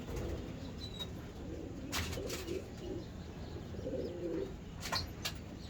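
Pigeons coo in soft, low, repeated phrases against a quiet background. A few sharper bird sounds and brief fluttering bursts break in at intervals.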